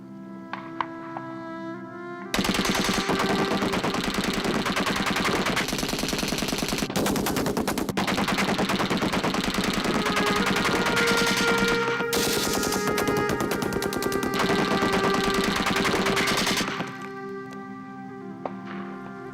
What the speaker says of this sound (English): The machine gun could fire 600 rounds a minute.